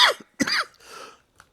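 A person coughs close to the mic, two or three short harsh bursts followed by a softer breathy rasp and a faint trailing catch, with no talking over it.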